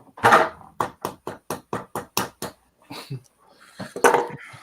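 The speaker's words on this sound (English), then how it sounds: "Yeah, I can do it with my little baby wrench." A small wrench taps repeatedly on a stainless steel prosthetic leg, about nine sharp, evenly spaced metallic knocks, then a pause and a couple of louder hits at the end.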